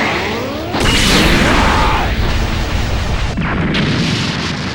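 A large explosion from a Dragon Ball fighting game bursts loudly and roars on with a dense, rumbling wash, followed by a second surge of blasting energy.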